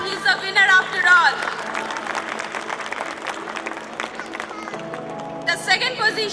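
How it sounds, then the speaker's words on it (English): Clapping from the audience at a children's annual school concert greets the winner of a prize. It is patchy and moderate, and a voice talks over much of it. "Can we hear a louder clap?"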